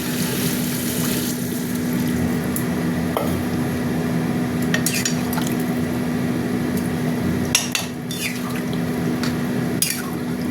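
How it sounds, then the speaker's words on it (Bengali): Water is poured into a pan of spicy egg curry, a steady liquid rush and gurgle over a constant kitchen hum, with a few clinks and bumps partway through. "এবার জল দিয়ে দিচ্ছি"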